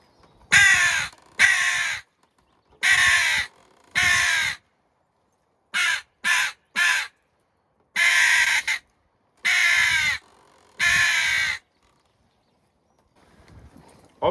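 A blown JPPCalls version 2 crow call gives a series of loud, harsh caws in uneven bursts, some single and some paired, separated by short silences, close and with no talking.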